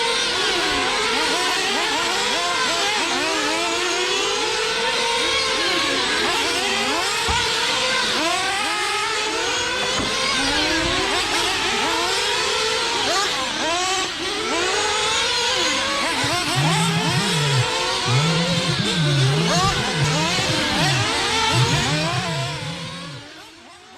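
Several RC dirt oval race cars run an A main race on a track, their small high-pitched engines whining and rising and falling in pitch as they circle. The sound overlaps continuously, loud and busy throughout with no talk.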